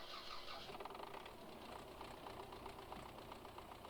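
A Belarus tractor's engine runs steadily in Farming Simulator 22, a continuous mid-pitched drone with a faint rattling knock, moderately loud and heard alone without talk.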